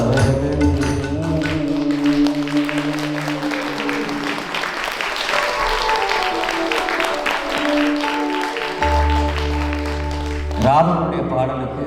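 An audience claps after a song about Ravana at a Tamil folk music performance, with steady applause lasting throughout and tonal music and voices continuing above it.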